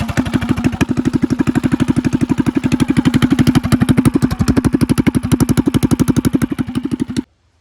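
A small yard kart engine, electric-started with the choke on, runs with a loud, rapid, steady chugging close by, then abruptly dies into silence.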